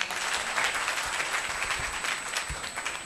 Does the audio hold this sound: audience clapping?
yes